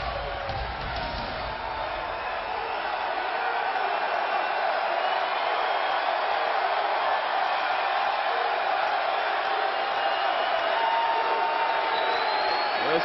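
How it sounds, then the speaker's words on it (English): Capacity arena crowd at a WWE Raw event in Minnesota, a dense steady roar of cheering for Brock Lesnar's entrance, broad and sustained throughout, with faint scattered voices within it. "Capacity crowd has turned out to welcome Brock Lesnar home"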